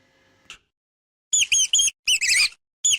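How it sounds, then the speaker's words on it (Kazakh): A cartoon mouse squeaking in a Kazakh children's animation about animal sounds: a single short click, then a quick series of shrill, high-pitched squeaks in uneven bursts. "Тышқан."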